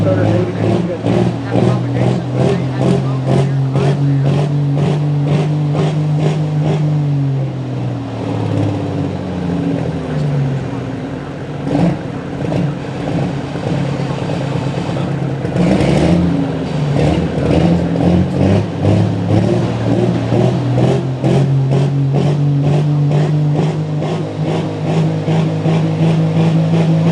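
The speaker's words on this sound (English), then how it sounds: "This is Pro Stock, single turbo, 6-cylinder diesel, 680 cubic inches." A Pro Stock single-turbo 680 cubic inch six-cylinder diesel pulling truck at a night truck and tractor pull in Shippensburg, Pennsylvania, roars loud and close, its pitch swelling and falling under a blaring announcer's voice.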